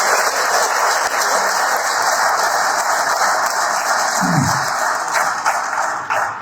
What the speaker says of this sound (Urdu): تو سب سے پہلے تو آپ اپنے آپ کے لیے پلیز ایک زوردار تالیاں